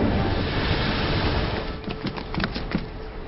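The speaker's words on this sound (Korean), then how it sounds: "그날 밤 주문이 통했는지 파도가 거칠어졌고 수영장을 덮쳤습니다." Rough ocean waves surge and crash over a pool in a teen mermaid film scene, a continuous loud roaring wash with a few sharper splashes and thuds toward the end.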